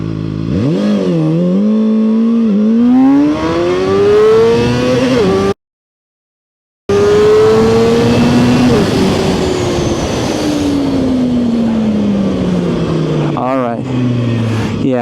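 A ZXJC 500RR small-displacement motorcycle launches hard and accelerates, its loud, close engine note climbing steadily in pitch through several gear changes. A short silent gap breaks the run midway, and the engine then winds down near the end.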